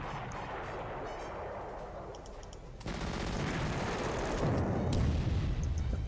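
An enemy unit fires back in a Stalingrad docks battle in a PC wargame, a dense rattling burst of gunfire that swells louder partway through and carries on steadily.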